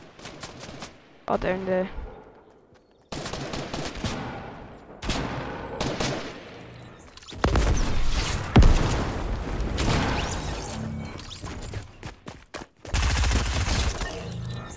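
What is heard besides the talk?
shotgun fire in Fortnite video game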